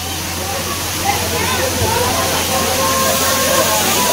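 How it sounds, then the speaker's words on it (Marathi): A small children's waterfall at a Konkan food-street spot, rushing in a steady broad hiss of falling and splashing water that fills the whole stretch, with people talking over it. "भूषण एवढे लहान मुलांसाठी असतो धबधबा"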